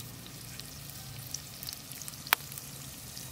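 Ingredients for anchovy gravy sautéing in a pan over moderate heat, with a steady soft sizzle and faint crackles, one sharp pop partway through, quiet and close with no talk.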